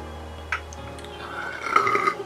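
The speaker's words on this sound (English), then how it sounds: "A burp." A rumbling human burp rises over a steady background hum during a podcast, building in the second half and lasting about a second before trailing off.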